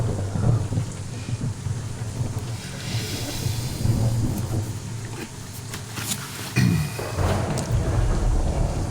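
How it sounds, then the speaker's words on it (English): Steady rain with low, rolling rumbles of thunder in the distance, a continuous wet hiss beneath deeper swells. "you hear the distant rumbles of thunder carrying into this space"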